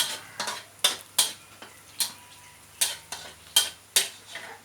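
Pork stir-fries with chili and garlic in a pan, with a quiet sizzling bed and a steady run of sharp spatula scrapes and clinks against the pan, roughly two per second, close up and with no voices.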